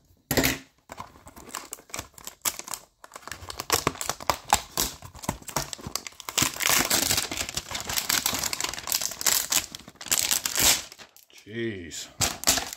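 Trading card packs are torn open and shuffled up close, with dense crinkling foil, ripping and card-flicking bursts throughout, plus a voice.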